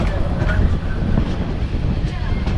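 A passenger train pulling into Chittagong railway station, heard from on board: a loud, steady low rumble of wheels and carriages with wind buffeting the microphone, and faint voices underneath.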